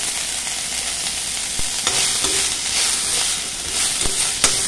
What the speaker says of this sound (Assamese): ঢেকীয়া শাকখিনি গলি যোৱালৈকে আমি কিছু সময় ভাজি ল'ব লাগিব